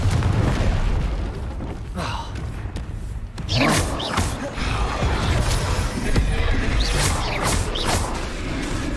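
Confringo fire spell from the Hogwarts Legacy video game, with several heavy booming blasts and crackling bursts in quick succession over a dense, noisy combat background.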